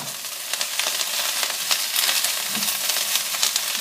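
Vegetables stir-frying in oil in a crowded pan, giving a dense, continuous crackling sizzle with small popping bursts as they are moved around. It is close and steady, with no voices.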